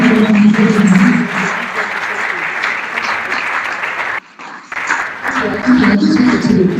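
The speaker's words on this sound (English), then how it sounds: "Can we have a round of applause for each of them?" An audience claps steadily and loudly, with a short lull before the applause picks up again.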